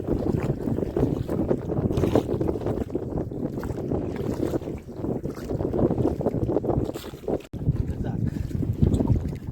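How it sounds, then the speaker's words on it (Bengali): Strong wind buffets the microphone on a boat crossing a large tidal river in the Sundarbans with rough waves and a strong current, a loud continuous roar with gusty surges and a brief dip near the end. "এখন প্রচণ্ড হাওয়া তেমনই ঢেউ জলের টানও প্রচুর"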